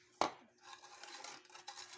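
Egg being mixed into melted butter for chocolate brownies in a bowl, opening with a sharp utensil knock against the dish, then steady scraping and stirring strokes close by.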